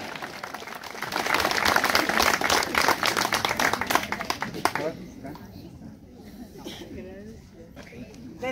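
A crowd applauding at an outdoor gathering, dense clapping for about five seconds before tapering to scattered claps, with a voice speaking over the end.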